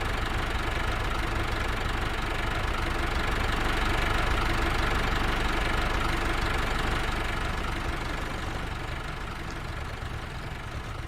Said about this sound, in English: See what I mean about that tractor being so loud?